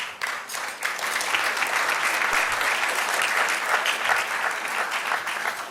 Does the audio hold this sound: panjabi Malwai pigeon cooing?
no